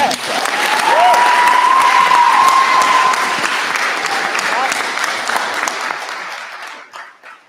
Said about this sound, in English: let's give Genevieve another round of applause